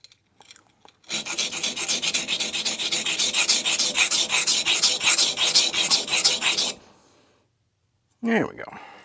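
A newly forged knife's hand-flattened bevel is rubbed on a King 120 grit whetstone in a close, steady run of rhythmic rasping strokes lasting several seconds, followed by quiet and a short voice.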